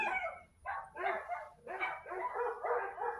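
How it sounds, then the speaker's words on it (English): Several dogs bark outdoors in a quick run of repeated yapping barks, moderately distant and fairly quiet, with short pauses between bursts. "there's a lot of dogs out here"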